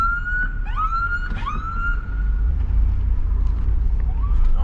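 A police car siren in South Carolina wails and yelps in rising and falling sweeps, loud and close at first and then fading, over a steady low vehicle rumble.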